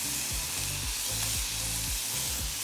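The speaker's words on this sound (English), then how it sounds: "Oh, the sizzle." Turkey donair meat sizzles steadily in a hot frying pan, a dense crackling hiss that carries on without break, with low rumbling underneath.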